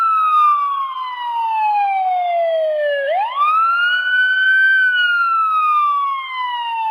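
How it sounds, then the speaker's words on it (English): A wailing siren sweeps down slowly, then rises sharply and falls again, sustained and fairly loud with no other sounds around it. "In the distance, they heard a siren."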